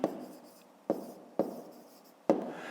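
A pen scratches on paper in four short strokes during a fifth-grade math exercise, close and quiet in a still room.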